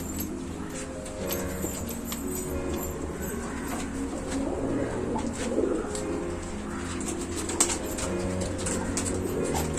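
Racing pigeons kept in a loft, including a four-year-old male tournament flier, coo in low, rolling, repeated calls that go on throughout at close range, with faint chirps and light rustling.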